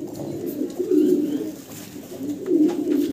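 A pair of Strasser pigeons coo in soft, low, throaty rolls, close by and repeating in two or three bursts without talk.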